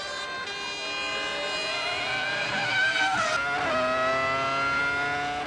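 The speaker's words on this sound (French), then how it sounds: "La Ferrari déborde la Jordan, Barrichello est en 3e position." Formula 1 cars from the 2000 season race past, a Ferrari overtaking a Jordan, with a steady high-pitched engine whine that sweeps upward and shifts pitch as the cars pass, loud and continuous throughout.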